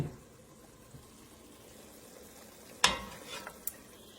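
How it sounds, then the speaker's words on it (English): Ground beef browning in a home kitchen pan gives a low, steady sizzle, with a sharp scrape or clink of a utensil partway through and a couple of lighter taps after it, fairly quiet and close. "I am browning up some ground beef"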